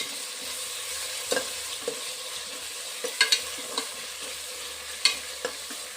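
Tomatoes frying in a pan for mushroom biryani, with a steady close sizzle and a few sharp scraping clicks as a spoon stirs them; no voices.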